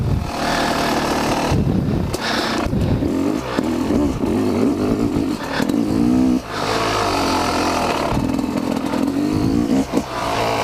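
A dirt bike roars hard on a private dirt track, its engine loud and close as it revs and accelerates repeatedly, with brief dips between bursts of throttle.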